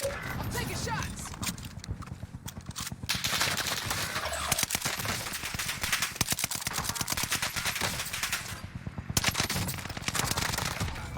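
Gunfire in the video game Call of Duty: Warzone, with dense rapid automatic bursts and shots running almost continuously over a busy mix of game sounds, loud and close.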